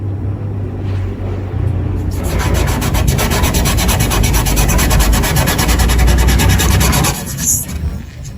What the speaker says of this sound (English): Now we can start rubbing.